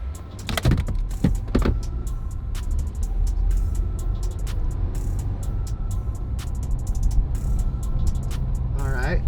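A Jeep in city mode pulls away from a stop, its engine a low steady rumble building as it gets rolling, with a few sharp clicks and knocks early on and a voice speaking over it.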